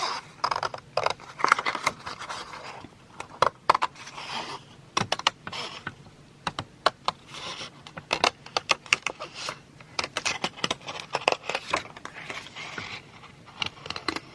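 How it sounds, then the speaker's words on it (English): Repeated crisp snips of scissors cutting paper, irregular bursts of short clicks and rustles close up, with no talking. "then I'm going to cut it. Just with my scissors."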